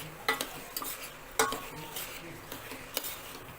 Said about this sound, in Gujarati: અને હવે આપણે સરસ બધું મિક્સ કરી લેશું.